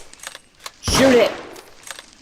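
A single short burst of gunfire in the video game Squirrel Stapler, a loud crack with a brief ringing tail, alone amid faint background game sounds.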